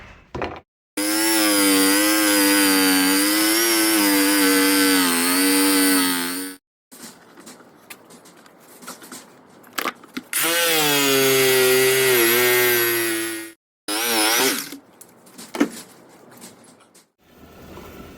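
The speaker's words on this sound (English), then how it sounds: "now we're going to jigsaw this out" Jigsaw cutting a round piece out of a board for a pipe on a hand dredge pump build, a loud close buzzing whine in two long passes broken by short stops, handling clatter and rustling in between.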